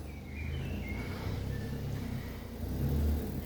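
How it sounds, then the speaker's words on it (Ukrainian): Car pulling into a yard, a steady low engine rumble with a faint rise in the last second, moderately close and heard alone without talk. "Це на подвір'я заїжджає машина."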